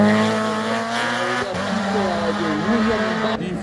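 Race car at a French hillclimb course de côte in St Gouéno, engine note rising and shifting through gears, loud and close, with tonal harmonics and tyre noise, under faint commentary.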